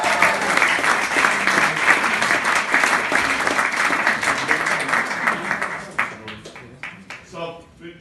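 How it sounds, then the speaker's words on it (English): An audience at an acoustic music night at the Ballroom claps warmly to welcome the performer Matt to the stage. The dense, steady applause lasts about six seconds, then thins out to a few scattered claps as the room settles. "Give him a huge round of applause"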